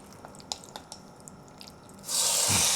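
Beef strips hit a very hot cast iron wok on high heat, erupting into a loud, steady hiss that swells abruptly after a quiet stretch of faint clicks and drips.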